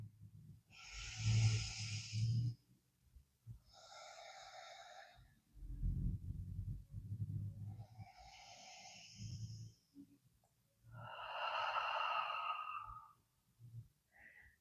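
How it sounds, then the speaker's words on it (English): Slow, deep breaths during a sun salutation yoga sequence: long drawn inhales and exhales, close and audible, in an even unhurried rhythm of about four full cycles with quiet pauses between. "Let's take 2 breaths here."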